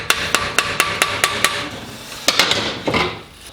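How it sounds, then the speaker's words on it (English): A hammer strikes metal in a workshop during the stripdown of an Ohlins shock from a Ducati 916, seven quick evenly spaced ringing blows followed by a pause and a few more irregular hits. "the bloke hitting the hammer"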